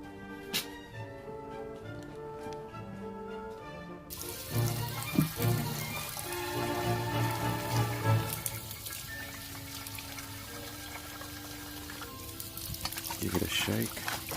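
Water from a tap splashes and pours into a plastic coolant reserve bottle from a Toyota MA70 Supra as it is rinsed, with a steady running-water hiss, and a brief gurgling slosh near the end.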